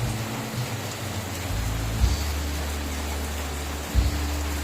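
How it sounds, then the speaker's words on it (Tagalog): Heavy rain pours steadily outdoors around parked cars, a dense continuous wash with two brief low thuds near the two- and four-second marks. "My god, this is a heavy rain."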